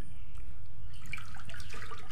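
Water runs steadily as young grass jelly leaves are rinsed after being scalded with hot water, a continuous close splashing and trickling with no talk.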